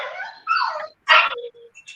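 Dogs indoors give short yips and whimpering barks in two or three quick bursts, separated by silent gaps. The sounds are close and moderately loud, with no talking.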